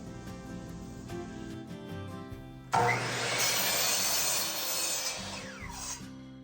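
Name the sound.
cutting 1x3 wooden boards into sections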